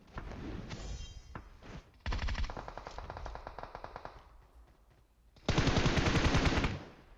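Two PUBG Mobile squads trade automatic fire: loud rattling bursts, a quieter spell of distant shots, then another close, intense burst.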